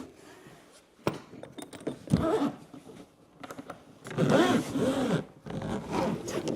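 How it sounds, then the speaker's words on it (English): Suitcase zipper being unzipped on a LEVEL8 carry-on, a close series of rasping zip pulls with short pauses between them and small handling noises. "Okay, let's unzip this."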